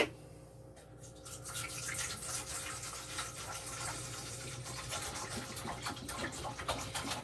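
Water pours steadily from a container into a bowl to make brine for yeolmu kimchi in a small kitchen, a continuous splashing, trickling wash that runs the whole time at close range.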